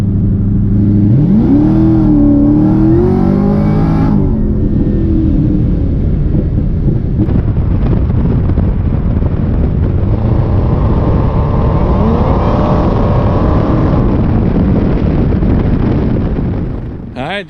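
A car with a leaking ice tank is driven hard, its engine loud and close as it revs and accelerates through several rising pulls, with heavy wind and road rumble underneath.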